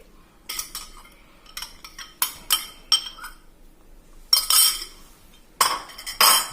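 Scone batter with curdled milk whisked in a bowl, bursts of rapid clinking as the whisk strikes the sides, separated by short pauses, close and fairly loud.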